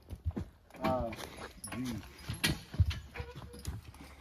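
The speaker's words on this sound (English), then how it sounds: "a situation like this is a good place to teach a horse to back up slowly" A draft horse backing slowly down a hill while skidding logs gives a few soft, irregular hoof thuds, with someone talking over them close by.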